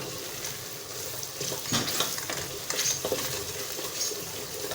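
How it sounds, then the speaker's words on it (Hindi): Ridge gourd (tori) sabzi stir-fried in a pan, with continuous sizzling and the scrape of a spoon stirring through it, close and steady throughout. "इसकी अच्छी सी भुनाई कर लें 10 मिनट तक"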